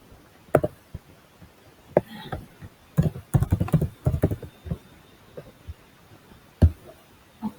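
Keys tapped on a computer keyboard while writing HTML code, scattered clicks and short bursts of typing, close and fairly quiet, with pauses between clusters.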